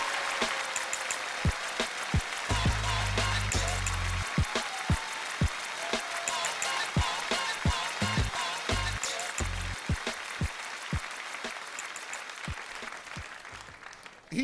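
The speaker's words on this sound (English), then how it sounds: "give him a warm round of applause" An audience applauds a poet at a Def Poetry Jam show: dense, sustained clapping that stays loud for about fourteen seconds, with no voices over it.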